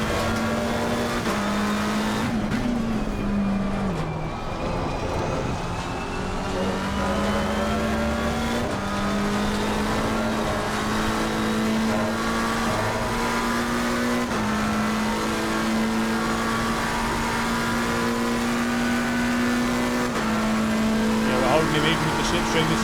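Race car engines in Assetto Corsa Competizione at Spa during a multi-class race: a loud, sustained engine drone with shifting pitch as gears change and revs rise and fall, a driver talking over it throughout.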